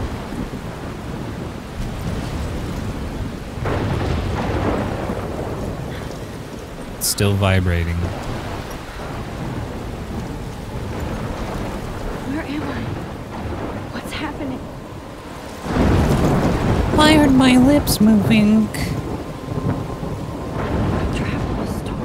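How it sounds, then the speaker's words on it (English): A thunderstorm with rain rumbles on in the video game Life Is Strange, with steady rain, low thunder rolls and a heavier crash near the end. Someone talks over it. "I'm trapped in a storm."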